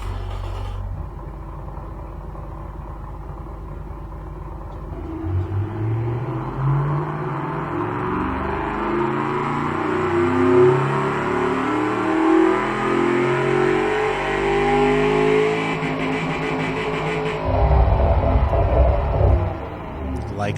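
A 317-horsepower car engine in the game Automation idles with a low rumble, then revs up in a long rising sweep that holds high before dropping back to a deep idle, loud and without speech.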